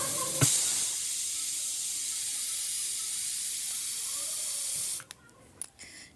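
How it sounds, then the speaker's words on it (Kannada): A pressure cooker holding spinach for a lentil dish gives off a strong, steady hiss of escaping steam for several seconds, then stops abruptly, followed by a few faint clicks and knocks. "ನೋಡಿ ಕುಕ್ಕರು ಎರಡು ವಿಷಲ್ ಬಂದಾಗಿದೆ ಪ್ರೆಷರ್ ಕೂಡ ಕಡಿಮೆ ಆಗಿದೆ"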